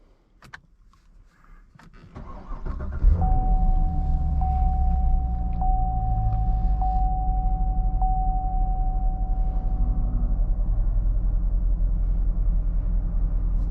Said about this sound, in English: Let's start it up and let's see how the car sounds.